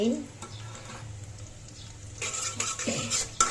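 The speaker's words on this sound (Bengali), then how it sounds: "মশলাটি একটু কষায় না নিলে আবার কাঁচা গন্ধ করব অনেকক্ষণ একটু কষাইতে হবে মশলাটা" Spice paste for a fried snakehead fish curry sizzles in a pan under stirring, starting as a moderate hiss, then rising into louder crackling bursts and scraping in the second half.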